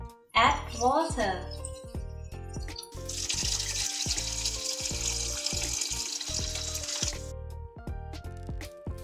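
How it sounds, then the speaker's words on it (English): Water rushes steadily into a pot for a few seconds amid clanking kitchen sounds and background music, then stops. "Add water."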